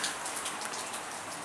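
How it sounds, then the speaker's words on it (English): Rain patters steadily onto a puddle outdoors in icy, snowy weather, a dense close hiss of drops with no voices. "So I can see in the puddle that it is actually raining"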